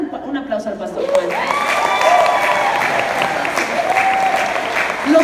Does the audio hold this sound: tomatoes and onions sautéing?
no